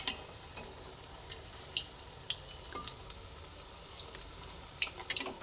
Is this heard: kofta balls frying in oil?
yes